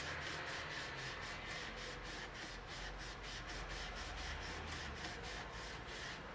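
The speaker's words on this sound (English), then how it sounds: "Really giving the fret a good clean and polish." Rag or cloth rubbed back and forth along the frets of an Epiphone Sheraton guitar to clean and polish them, giving a rhythmic series of soft, close scrubbing strokes at a steady pace.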